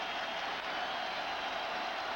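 A basketball arena crowd roars steadily in a Kings at Timberwolves 2003-04 first-round playoff game, a loud, continuous wash of cheering with no breaks.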